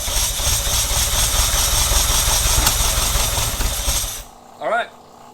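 A 1979 Ferrari 308 engine runs on its own just after its first start, a loud steady rumbling roar for about four seconds that drops away, followed by a short burst of talk.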